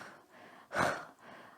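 A preacher imitates panting with one sharp, breathy gasp, a short loud burst of air standing alone against quiet room tone.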